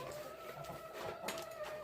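Old laying hens cluck in short bursts in a coop in the evening over a steady background hum, close by, with no talking.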